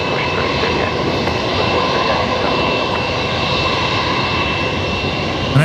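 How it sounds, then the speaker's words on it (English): Dash 8 turboprop airliner departing Brisbane Airport, a steady, loud engine roar with broadband rush that holds evenly throughout, no voices over it. "And then we got another Dash 8 heading out."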